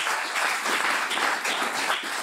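Audience applause at an Italian business community gathering in Luxembourg, a dense, steady wash of many hands clapping that fills the short stretch without a break.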